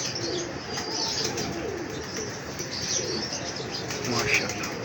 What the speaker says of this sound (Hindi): खालिस कबूतर हैं ये।